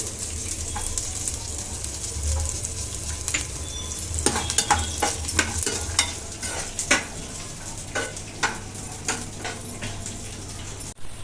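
Peanuts and dried red chillies fry in a pan, a steady bright sizzle with sharp scraping and clinking strokes of a spoon stirring through the second half, close and without speech.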